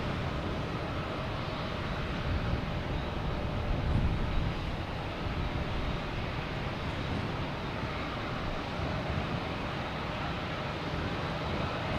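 A KLM airliner from Amsterdam at Boston Logan Airport gives off a steady, distant broadband jet roar that holds evenly throughout, with no talking.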